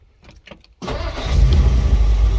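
A 1955 Ford Crown Victoria Fairlane engine cranks and fires up, rising from a few faint clicks into a loud, steady idle with a deep rumble close by.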